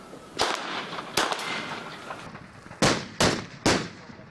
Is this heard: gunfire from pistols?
yes